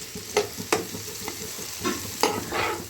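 Mushrooms sautéing in butter with garlic in a pan, a steady soft sizzle broken by several sharp scraping stirs of a spatula, close and alone with no talk.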